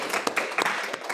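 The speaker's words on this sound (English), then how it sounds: "give a round of applause to Emily for machine learning" A lecture-hall audience in an introductory Python class gives a short burst of applause, a handful of quick claps close together with some talk mixed in.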